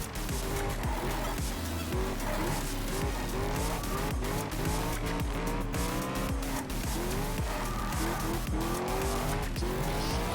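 A car in the video game Test Drive Unlimited drives with a steady, loud engine drone and repeated tire squeals and skids, continuous throughout.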